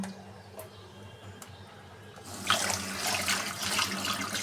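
Tap water starts running partway through and then hisses steadily into a sink as fish is washed, following a few faint clicks over a low hum.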